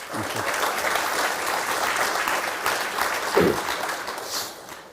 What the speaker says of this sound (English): So I want to give it a round of applause for Gabe as well.